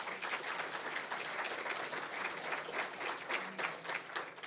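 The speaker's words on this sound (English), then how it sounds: "A round of applause for our panel," An audience claps steadily for a panel at the close of a governance event, a dense, even round of applause from start to finish with no talking over it.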